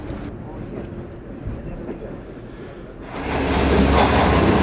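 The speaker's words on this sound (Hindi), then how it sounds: "तो इस वक्त ट्रेन हमारी पास हो रही है जी लाहौर छावनी से।" The Pak Business Express train runs past Lahore Cantonment without stopping, heard from inside a carriage as a low muffled rumble that swells into a loud, steady roar of wheels and rushing air.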